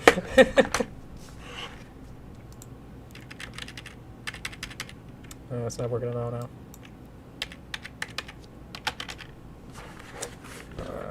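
Someone handles a computer keyboard while pulling its battery out: scattered plastic clicks and taps, a short clatter in the middle, and a voice speaking briefly near the start.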